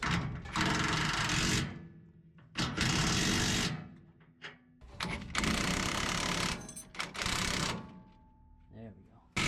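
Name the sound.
tightening and torquing lift kit suspension bolts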